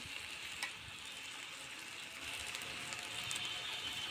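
Ginger paste, turmeric and salt fry in a pan with a steady, faint, crackling sizzle that holds throughout, with no voices over it.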